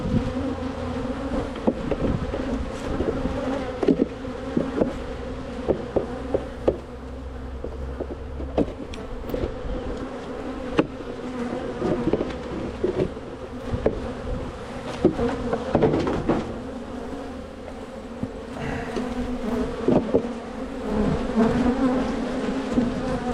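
Honey bees at an open hive during an inspection in the West Apiary, a dense close buzzing hum that swells and dips, with occasional sharp knocks and clicks from handling the frames and no voices.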